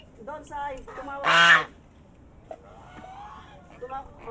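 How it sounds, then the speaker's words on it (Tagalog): Geese honk in a loud, harsh burst near the middle, with softer calls around it, while a person nearby calls out to them at a farmyard feeding. "Oh, gansa."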